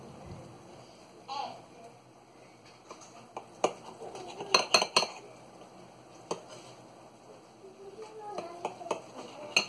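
A knife slices a boiled egg into pieces, giving scattered sharp clicks and taps against a plate or board amid quiet kitchen clatter, with a person speaking at times.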